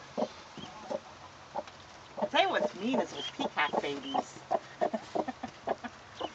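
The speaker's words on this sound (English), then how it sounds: "Aww, look at her clucking." A mother hen clucks near her chicks on a farm, short soft clucks repeating throughout while people talk over them.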